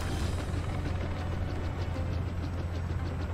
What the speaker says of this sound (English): They're just shooting into the sky over there.